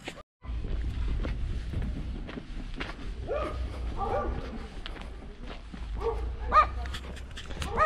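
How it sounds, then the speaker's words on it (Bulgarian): Dog on a wild hillside near Vladislavovo, with short yips and barks scattered over a steady low wind rumble and footsteps, fairly close but not loud. "Ето един бесен пес, дето джавка много."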